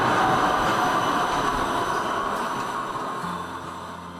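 A tram in Brno, Czech Republic, rumbles past on its rails, a steady broad roar that slowly fades as it moves away, with no voices.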